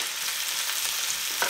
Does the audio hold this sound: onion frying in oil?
yes